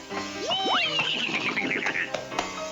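A cartoon horse whinnies loudly and close by: a rising, wavering neigh that trails off into snorting, with faint background murmur.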